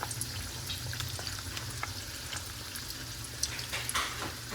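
Bok flowers (hummingbird tree blossoms) dipped in gram-flour batter fry in hot oil, giving a steady dense sizzle with a few brief spatters and clinks, no voices.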